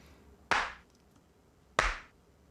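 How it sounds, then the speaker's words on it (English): Two sharp, processed clap hits land about a second and a quarter apart, each with a bright burst and short decaying tail, sitting alone with no voices, from a distorted, heavily edited beat for a remix. "Some claps."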